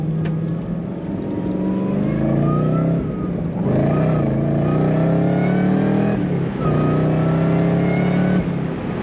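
A 2015 Chevrolet Camaro Yenko SC convertible, top down, revs up repeatedly, a rising whine over a deep rumble, with brief dips between gear shifts, loud and steady.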